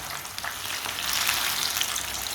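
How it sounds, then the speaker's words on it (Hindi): Chicken pieces, just flipped with two spoons, fry steadily in a hot pan, giving a continuous close, bright sizzle and crackle with no talking. "ये वाली साइड से भी 3 मिनट के लिए पकने देते हैं।"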